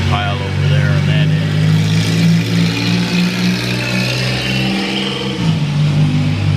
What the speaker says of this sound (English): Noisy cars, yeah.